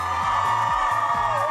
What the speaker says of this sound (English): Guys, let's give them a big cheer!